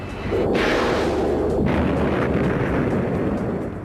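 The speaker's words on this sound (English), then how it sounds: "the #1 weapon of choice of an A-10 pilot is going to be their gun" An A-10 attack jet fires its gun in a loud, continuous roaring burst that swells sharply twice and holds as a dense rumble throughout, with no speech.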